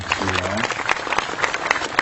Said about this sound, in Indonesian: Tepuk tangan teman-teman semua.